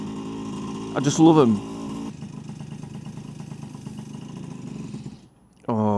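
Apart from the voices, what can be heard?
Vespa PX125 two-stroke scooter engine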